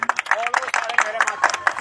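Crowd clapping at a BJP party office inauguration, brisk scattered applause mixed with voices, close and fairly loud throughout.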